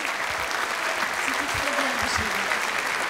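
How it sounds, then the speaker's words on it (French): A studio audience at a French children's singing TV show applauds loudly and continuously. Faint voices and a few tonal sounds sit underneath the dense clapping. "Applaudissements"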